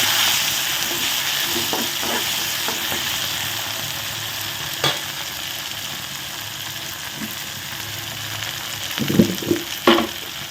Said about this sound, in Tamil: இந்த மாதிரி நல்லா வதக்கணும் வெங்காயம் நல்லா வதங்கட்டும்